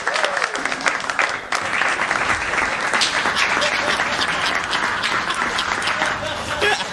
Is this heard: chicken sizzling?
no